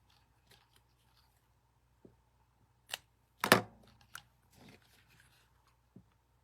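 Scissors cutting craft material for a Snoopy love project, a few sparse snips and crunchy cuts with one louder burst in the middle, close and otherwise quiet.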